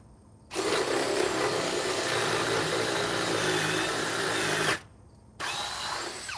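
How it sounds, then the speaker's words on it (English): A battery-powered drill bores through wood with a loud, steady whirring grind for about four seconds, stops briefly, then spins up again. "this battery is definitely helping the drill out"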